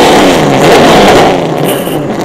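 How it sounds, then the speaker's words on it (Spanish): Several Turismo Carretera race cars fire up and rev together at the start of the championship final, a loud, dense, continuous engine roar that surges and holds without a break. "tienen que encender los motores en segundos, nada más y nada menos, señores pilotos, enciendan sus motores"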